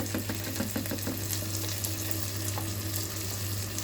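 Rice upma with turmeric, garam masala and tomatoes frying in an electric kettle: a steady, close sizzle over a constant low electric hum, with light scraping stir strokes scattered through.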